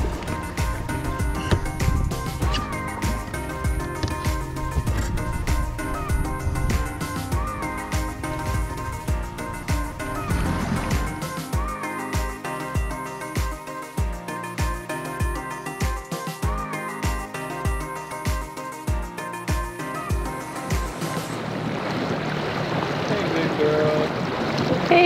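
A boat's outboard engine runs on the water, a steady drone with rhythmic thumping and some music-like tones; a voice is faintly present beneath.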